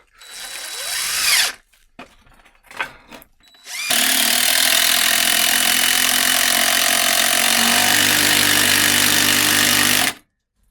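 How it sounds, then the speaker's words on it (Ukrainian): A DeWalt impact driver fitted with a DWHJHLD impact clutch bit holder drives a screw, with a few short bursts followed by one long, loud, steady run that shifts pitch near the end before stopping. "Зараз закрутимо ще один шуруп."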